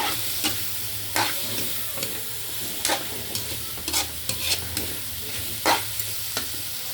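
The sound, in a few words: stir-frying papaya and chayote for chicken tinola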